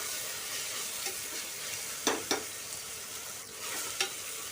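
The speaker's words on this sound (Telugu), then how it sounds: "ఒక 2 స్పూన్లు వేసుకుని అది కూడా పచ్చివాసన పోయేలాగా బాగా ఫ్రై చేసుకోవాలన్నమాట." Ginger garlic paste sizzling and frying in a pressure cooker, a steady close hiss broken by a few scraping stirs of a spoon against the metal, no talking.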